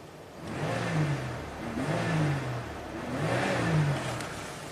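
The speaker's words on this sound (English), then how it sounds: "Revs up fine." A 1985 Oldsmobile engine with a low mass airflow sensor circuit fault revs up three times in steady succession, rising and falling in pitch, close by with no talking.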